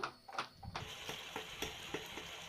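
A pan of broccoli gravy with water and masala bubbles and sizzles softly, with irregular pops and a few clinking stirs near the start, quiet and close.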